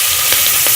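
Tomatoes, green chillies and salt frying with cumin and onion for jeera pulao masala, a bright continuous sizzle close up with faint stirring pulses.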